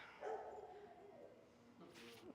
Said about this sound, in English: listen to the dog